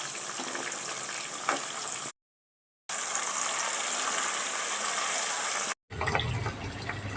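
Chicken with masala powder cooking in a pan as it releases its water, a steady bubbling sizzle in two long stretches broken by brief gaps.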